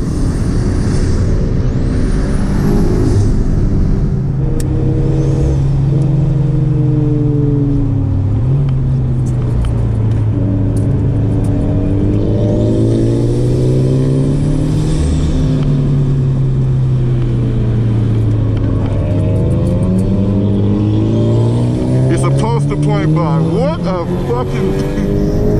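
A turbocharged Toyota GT86 show car on air suspension driven hard, its engine loud and close as revs rise and fall through gear changes, with turbo whoosh and pops and people talking over it.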